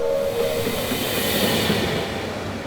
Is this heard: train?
yes